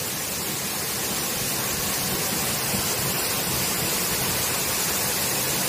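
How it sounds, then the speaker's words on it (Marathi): Katalkada waterfall at Rajapur in Konkan sends water plunging from a height, a loud, dense, unbroken roar that sounds close and fills the whole stretch, with no voices over it. "उंचीवरून हा सुद्धा वॉटरफॉल पाणी पडते बघा."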